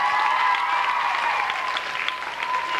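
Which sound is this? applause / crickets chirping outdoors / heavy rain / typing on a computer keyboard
applause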